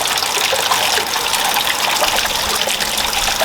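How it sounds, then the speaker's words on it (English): Steady gushing and trickling water pours through a freshly repotted bonsai pot, draining out the bottom in a continuous close splashing wash with no pauses or voices. "water your tree until the water coming from the bottom runs clear"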